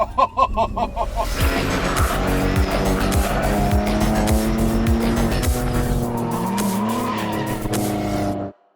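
BMW M3 Competition Touring drifting sideways as a chase car: a loud, sustained engine roar with rising and falling revs and continuous tire squeal close by, running steadily for most of the stretch before cutting off.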